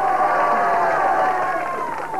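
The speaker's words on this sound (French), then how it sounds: "On l'applaudit bien fort." Audience applause mixed with crowd cheering in a TV game-show studio, a steady dense roar at moderate loudness that carries on throughout and slowly fades slightly at the end.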